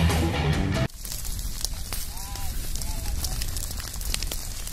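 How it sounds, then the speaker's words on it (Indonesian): A two-hectare land fire burns steadily in Talang Duku village, giving a continuous rushing roar with scattered faint crackles, preceded by a brief burst of louder noise; no one speaks. "Hingga Kamis malam kebakaran masih menyala."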